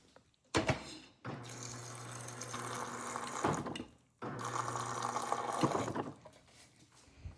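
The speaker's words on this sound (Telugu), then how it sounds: "దీంట్లో కొంచెం వాటర్ పట్టేసేసి" Tap water running into an Instant Pot inner pot, filling it in two steady bursts of flow with a short pause between, close and fairly loud, no voices.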